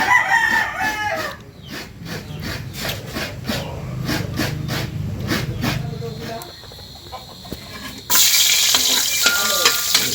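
Chicken adobo in coconut milk sautéing in a pan, a steady frying sizzle with stirring clatter, while a rooster crows nearby and a voice speaks over it.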